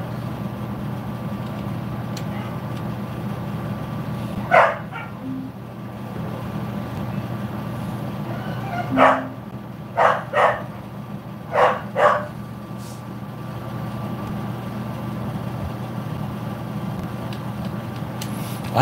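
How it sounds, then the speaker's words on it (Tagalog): Several sharp dog barks, one isolated, then a quick cluster of four, ring out at moderate distance over a steady low engine-like hum, with no talking. "Ingay ng aso naman."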